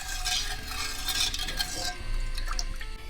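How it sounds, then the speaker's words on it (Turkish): A spoon gently stirs sugar and water in a pot for syrup, making close scraping and swishing strokes against the metal with a soft liquid slosh, repeated in a steady rhythm. "Şöyle hafif hafif karıştıralım. Şekerin bir miktarını eritelim."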